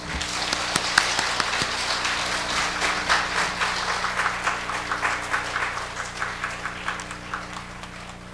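Audience at a church mothers' prayer meeting clapping warmly to welcome a guest speaker, a dense, steady patter of many hands with some louder individual claps, sustained throughout.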